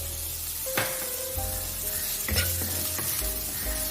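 Onions fry in hot oil in a pan for a little millet fenugreek garlic porridge, a close crackling sizzle with several sharp spits and pops scattered through it and no voices.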